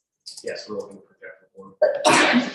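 A single sharp sneeze bursts out near the end, loud and close, following a person's brief speech in a courtroom setting.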